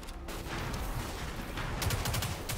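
A big gun firing in the video game Destiny 2: a dense, continuous burst of heavy shots, loud and close, with a denser volley of blasts toward the end.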